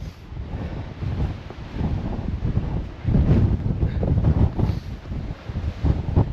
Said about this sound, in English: Really bad wind.